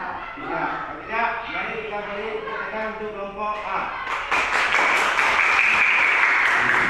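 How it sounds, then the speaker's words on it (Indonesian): A classroom group of students breaks into applause for a presenting group during a teaching session, dense clapping erupting after a teacher's spoken lines and continuing loudly to the end. "mari kita beri tepuk tangan untuk kelompok A"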